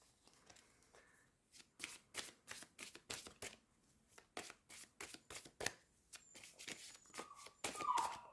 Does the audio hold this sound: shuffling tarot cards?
yes